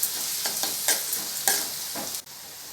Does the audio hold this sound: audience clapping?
no